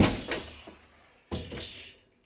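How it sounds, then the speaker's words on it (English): Door of a Convotherm maxx combi oven swinging open, two short muffled clunks and latch sounds a second apart, close and fairly quiet, with no talk. "Let's have a deeper look inside and open the door."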